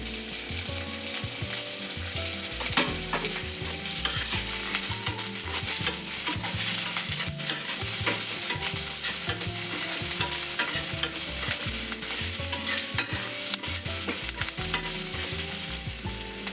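Chopped medium onion frying in oil for a mutton curry, sizzling steadily while a spoon stirs and scrapes the pan in a continuous rhythm, close and fairly loud.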